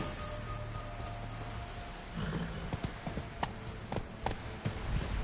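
Roach, Geralt's horse in The Witcher 3, clip-clops along with hooves pounding in a steady gallop under a low ambient bed, the hoofbeats growing sharper and more distinct partway through.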